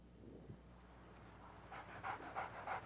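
A dog pants in a Doritos commercial, soft rhythmic breaths that grow louder and more regular in the second half, with faint low background noise underneath.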